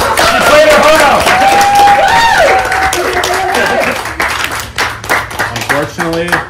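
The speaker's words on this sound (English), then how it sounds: "Give Delaney a round of applause" Audience applause and clapping for a departing contestant at a Survivor-style game show finale, loud and steady at first, then thinning out as voices talk over it.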